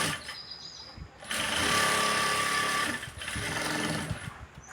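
A sewing machine runs in a close, loud continuous burst while stitching a blouse, its rapid needle rhythm steady for about two seconds, then easing into a second shorter run.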